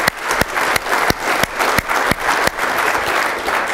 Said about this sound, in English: give these folks a big hand clap for coming